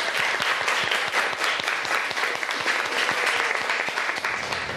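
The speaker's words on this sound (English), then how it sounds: "we should all give the cooks a big round of applause" An audience gives the cooks a big round of applause, a steady, dense clapping that holds evenly from start to finish with no voices over it.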